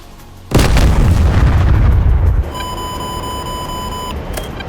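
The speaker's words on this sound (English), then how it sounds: "Bombs on the way." Bombs detonate on target in a flight combat video game, a single loud, close boom rolling on for about two seconds, followed by a steady electronic warning tone.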